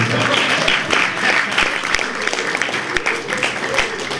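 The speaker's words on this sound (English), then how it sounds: "Give that man a round of applause." An audience claps steadily at a public talk on racism, Islamophobia and free speech, a dense, loud burst of applause lasting several seconds with a few sharper claps standing out.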